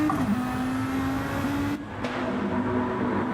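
A touring car in a PS4 racing game at a New York sprint round pulls toward the pit, its engine humming steadily at a constant pitch, with a brief dip and a quieter stretch partway through, no talk.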